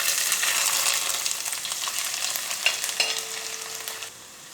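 Ginger dropped into hot oil with popped mustard seeds for a lemon pickle, giving a loud, dense sizzle with stirring that eases off slightly toward the end.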